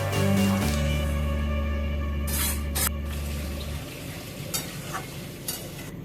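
Bottle gourd and egg curry bubbling and being stirred in a pan after the gourd's own water is mixed in; steady sizzle with a few scraping stirs, close and moderately loud, no talking.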